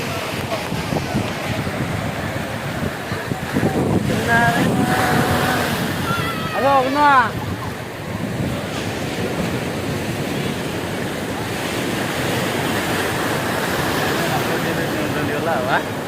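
Sea waves wash onto a beach in a steady, loud roar mixed with wind buffeting the microphone, with people's voices briefly audible midway.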